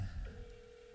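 Outgoing telephone call ringing on the line, a steady single ring tone heard faint and alone, with low rumble underneath.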